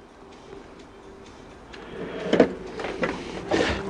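Soldering drawer of a toolbox sliding open and shut, with a few soft scrapes and clunks toward the end, close and fairly quiet.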